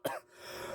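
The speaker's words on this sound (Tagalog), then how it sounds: "Inubo ako, di ka naawa." A single short, faint cough from a person who has been coughing, a quick throaty burst followed by quiet breathing.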